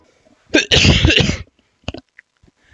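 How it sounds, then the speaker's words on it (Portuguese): A single loud, harsh burst lasting under a second, like a cough or sneeze, followed by a few faint clicks and quiet rustling. "Eu vou tossir."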